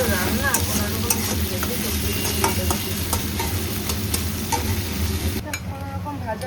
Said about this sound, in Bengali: কোনোরকম ভাজা হয়েছে পেঁয়াজটা।